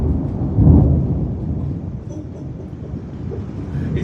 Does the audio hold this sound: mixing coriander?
no